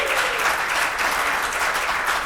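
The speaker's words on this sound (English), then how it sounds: "Can you give Kasem Kerri a big clap?" An audience claps together in a sustained burst of applause, a dense and even wash of hand claps heard at moderate distance for a couple of seconds.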